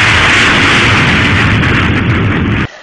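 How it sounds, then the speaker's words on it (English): A sonic boom from a supersonic aircraft: a loud, sustained broadband roar and rumble lasting over two seconds, then cutting off abruptly, heard alone with no voices. "Have a listen to one."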